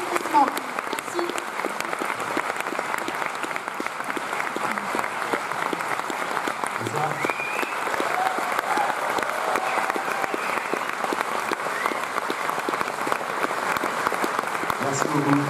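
A crowd at a film forum screening event applauds steadily to welcome a guest, dense continuous clapping filling the room at an even level with faint voices mixed in.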